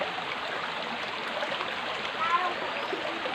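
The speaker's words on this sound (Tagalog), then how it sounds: "yung sapa" A creek runs through a rural farm area with banana trees, giving a continuous, even rush of flowing water that stays close and steady throughout with no break.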